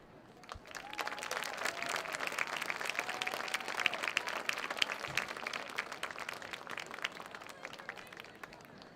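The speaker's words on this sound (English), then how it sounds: "please give a hand to our first responders as they make the field" A stadium crowd at a high school football game applauds steadily for first responders taking the field, dense clapping and cheering swelling quickly and holding for the full stretch, with a faint distant voice heard briefly.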